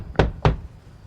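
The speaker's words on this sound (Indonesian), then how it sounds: "tiba-tiba ada yang mengetuk pintu rumah mereka" Two firm knocks on a house door, close and loud, spaced about a quarter second apart, with no talking.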